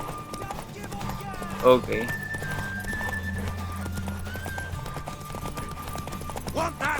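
A horse in The Witcher 3 gallops with rapid clip-clop hoofbeats and a neigh, under game music, while a person speaks briefly.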